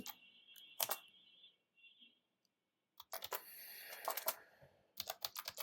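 Typing a prompt on a computer keyboard, with bursts of rapid key clicks separated by a short pause, close and fairly crisp.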